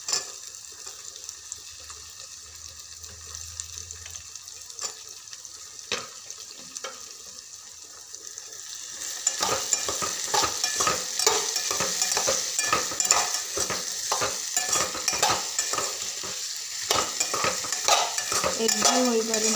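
Chopped okra stirred in a pan, a quiet start giving way to steady sizzling and scraping strokes of a spoon against the pan that continue densely to the end, with no talking.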